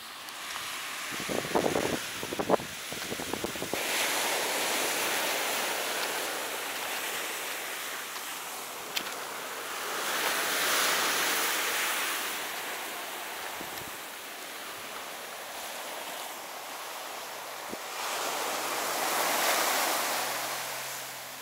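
Waves roll and break steadily on a public beach in St Maarten, a continuous surf wash swelling and easing in slow surges, with some wind across the microphone and a few brief knocks early on.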